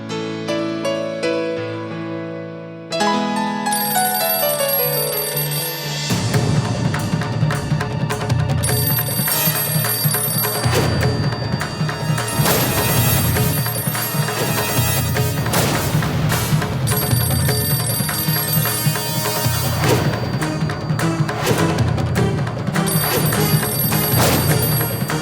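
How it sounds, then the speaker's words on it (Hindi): A telephone rings through a busy soap-opera scene, its tone blending with loud, sustained dramatic background music that starts softly and then swells and continues throughout. "फोन उठाओ"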